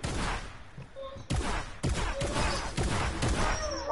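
Shotgun blasts in Fortnite, several sharp broadband bangs spaced irregularly about half a second apart, loud and close over continuous game background noise.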